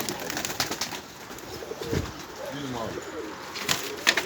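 Pigeons coo softly in repeated low, throaty phrases amid a busy, noisy outdoor background.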